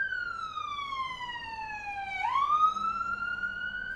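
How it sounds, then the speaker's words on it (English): An ambulance siren wails outside, its tone gliding steadily down and then sweeping sharply back up in a long continuous whoop, fairly loud with no talking over it. "Hang on, there's an ambulance."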